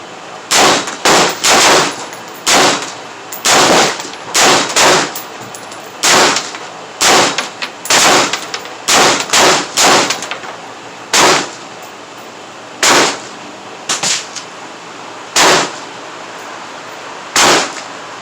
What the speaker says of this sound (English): As you can see, I shoot as fast as I could get back on target.